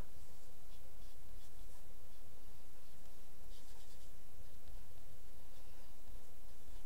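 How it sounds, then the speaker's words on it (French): An eraser rubbing excess makeup powder off paper, giving a soft, continuous scratchy rubbing sound, close and steady, with no talking. "on prend une gomme et on vient, hop, retirer avec la gomme"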